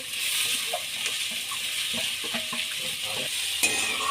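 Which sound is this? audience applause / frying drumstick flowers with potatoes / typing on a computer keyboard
frying drumstick flowers with potatoes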